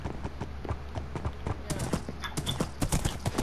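Horse hooves clip-clopping in Minecraft: a run of quick, sharp clops at an irregular pace, close and fairly loud, with people talking over them.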